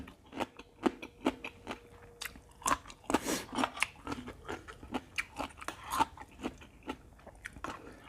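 Crunchy papaya salad with crispy fried fish is bitten and chewed up close, giving a quiet, steady run of crisp crunches and wet mastication clicks with a brief louder burst of crackling partway through.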